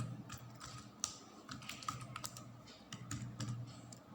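Steady clatter of keys on a computer keyboard as CSS code is typed, an uneven run of close, light clicks with no talking.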